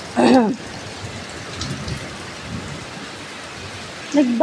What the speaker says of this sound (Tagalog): bakit ang ingay sa bintana? Yun pala, may yelo.